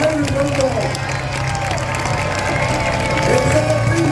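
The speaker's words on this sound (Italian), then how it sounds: "accogliamo Refrontolo per un applauso" A Palio finish-line crowd applauds and cheers as the men's Refrontolo team arrives, steady clapping and crowd noise running under an excited announcer's voice.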